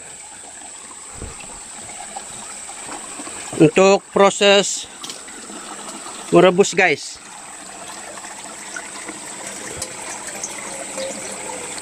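Water scooped from a clean stream into a container for boiling, a steady watery wash running under the whole stretch, with a voice breaking in twice for short bursts of talk.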